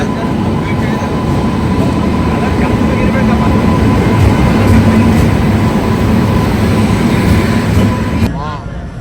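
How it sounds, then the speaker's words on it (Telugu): The Rajdhani Express 22691 from Bangalore to Hazrat Nizamuddin pulls into a platform at Hyderabad with a loud, continuous rumbling roar of wheels and carriages, and voices murmur faintly in the background before the noise drops away at the end. "ఇప్పుడు వచ్చింది చూడండి ట్రైన్ 2291 రాజధాని ఎక్స్ప్రెస్ బెంగళూరు టు హజరత్ నిజాముద్దీన్"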